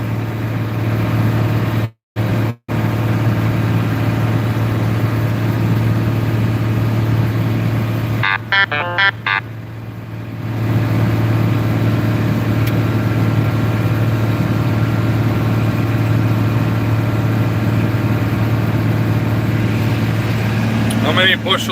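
An International 1682 pull-type combine engine runs steadily with a low, constant drone throughout, briefly cut out twice near the start, with a short patch of voice-like sound partway through.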